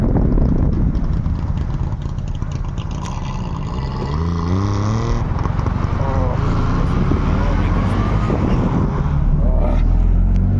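The small engine of an old Syrena car drones steadily at close range while driving through a city, rising and falling in pitch as it revs, with a person talking over the noise.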